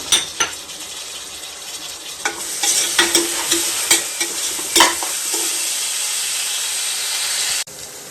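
Tomato pieces for mutton curry fry in hot oil with a loud, steady sizzle, while a spoon scrapes and clinks against the pan at irregular intervals until the hiss cuts off abruptly near the end.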